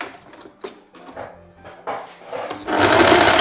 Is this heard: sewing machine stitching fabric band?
yes